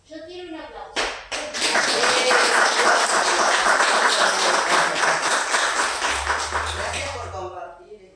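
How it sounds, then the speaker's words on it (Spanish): Audience applause at a book presentation in a library in Villa Talle, starting with a few scattered claps, then swelling into loud, dense, sustained clapping that tapers off near the end, with some voices underneath. "Yo quiero un aplauso."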